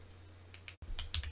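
Keys clack on a ROG Azoth mechanical keyboard with a muted thunk, a few close, quiet presses broken by a brief gap.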